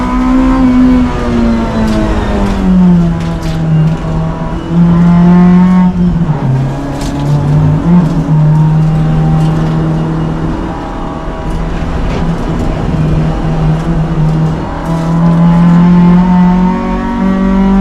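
A 1988 Honda CRX Si with a B16A engine laps a race track at Arroyo Seco, its loud, close engine note climbing and falling through gear changes in a continuous, strained high-rev whine.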